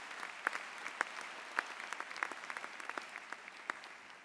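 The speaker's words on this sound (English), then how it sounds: "Give them a round of applause." Faint, distant applause rises from the audience at a law school commencement after a performance, a thin, steady patter of many hands with a few sharper claps standing out.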